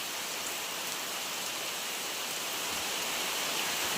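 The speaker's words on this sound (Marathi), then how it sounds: "पावसाला सुरुवात झाली" Steady rain falls in a Konkan village, a dense, even hiss that holds at the same level for the whole stretch with no voices over it.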